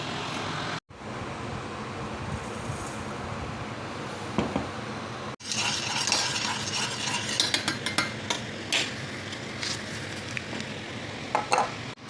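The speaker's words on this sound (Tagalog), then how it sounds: "Tapos ay magluto tayo ng yema." Yema cooking in a pan, with a spoon repeatedly scraping and stirring against the metal over a soft sizzle, with two brief gaps and clusters of clinks in the second half.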